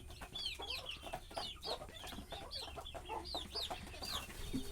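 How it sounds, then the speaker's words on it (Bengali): An Egyptian Fayoumi rooster gives soft, repeated clucks and short calls close by, in an irregular rhythm over a quiet background hum. "এটা আমার মিশরি ফাহমি মোরগ"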